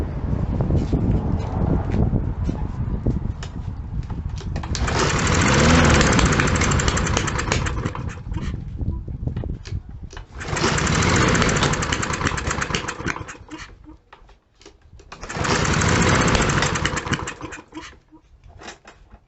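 Small Troy-Bilt TB200 engine running on carb cleaner, close and loud, surging up and dying down in three bursts of revving, with sputtering and popping backfires between the surges.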